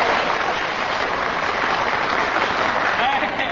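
A live audience at a Niu Qun and Feng Gong crosstalk comedy show applauds steadily, a dense, even wash of clapping that fills the whole moment without letting up.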